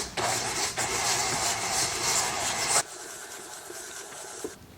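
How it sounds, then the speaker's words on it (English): KitchenAid stand mixer beating butter and sugar together, a loud, steady whirring motor drone that runs close and continuous, then drops abruptly to a quieter hum partway through with no talking. "It says to beat the butter and sugar together for 5 to 7 minutes"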